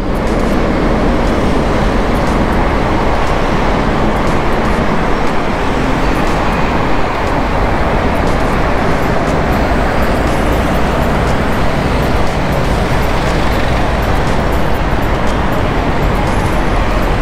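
Steady, loud roar of road traffic around a cyclist commuting to work in Caloocan, a dense, unbroken wash of passing cars and buses that runs the whole time with no voices.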